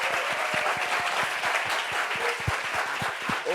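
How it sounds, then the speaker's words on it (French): A television studio audience bursts into loud, sustained applause to welcome a guest, with a firm rhythmic pulse of clapping running beneath the dense crowd noise. "Onyu, on l'applaudit s'il vous plaît."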